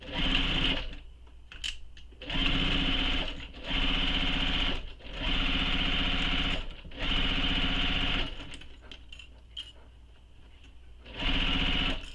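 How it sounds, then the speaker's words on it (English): A sewing machine stitching straight across the bottom seam of a bag, running in several loud, steady bursts of rapid whirring a second or two long, separated by short pauses. "Now I'm going to sew straight across that bottom seam."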